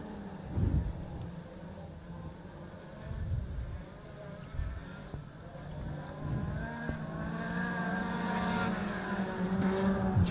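National 4-cylinder speedway race cars accelerate off the start at Lismore Speedway, a rising engine roar that swells from a distant blend of cars into louder, harder revving toward the end.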